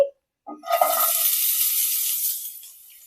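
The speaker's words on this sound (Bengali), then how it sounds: "এখানে আমার তেল গরম হয়ে গেছে, আমি এবার পেঁয়াজটা দিয়ে দিচ্ছি।" Sliced onion drops into hot oil after a brief clatter and immediately bursts into a loud, close, hissing sizzle that holds steady, then slowly fades.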